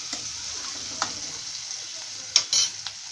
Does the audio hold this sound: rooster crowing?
no